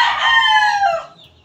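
A Sweater gamefowl broodcock rooster gives one loud, close crow lasting about a second, rising and trailing off sharply at the end.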